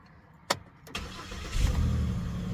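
A Chevy Impala 3.5 engine cranks with two sharp starter clicks, then catches and settles into a steady low idle that rumbles on, nearby, with no talk.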